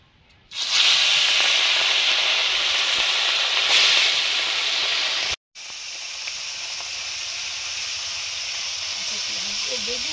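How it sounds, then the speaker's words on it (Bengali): Small river fish coated in salt and turmeric sizzle in hot mustard oil in a kadai, a loud continuous frying hiss that starts abruptly, breaks briefly, then carries on slightly softer. "গাংচুনো মাছগুলো ভাজা হয়ে গেছে"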